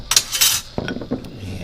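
A utensil clinks and scrapes against a pot or dish, stirring broth for dill pickle soup in a few quick, close taps and swirls.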